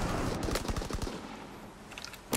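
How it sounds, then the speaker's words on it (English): Rapid bursts of aircraft machine-gun fire from a fighter plane's strafing run in Call of Duty WWII, loud and close with a sharp crack at the end. "Fighter pilot inbound. Strafing the target."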